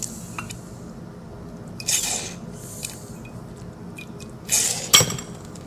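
Glassware clinks softly during the rinsing of electrode washings into a beaker, with a few light bright chinks and short splashy rinses over a quiet background hum.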